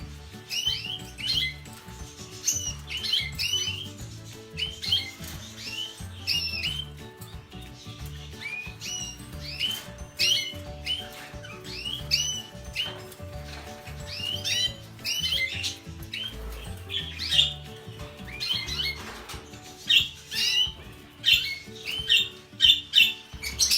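Small finches squawk and chirp constantly, a busy flock of overlapping calls up close, with no talking.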